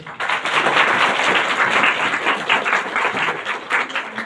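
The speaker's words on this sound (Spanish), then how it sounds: "démosle un fuerte aplauso" An audience in a conference hall breaks into sustained, dense applause to welcome a speaker, many hands clapping evenly for several seconds.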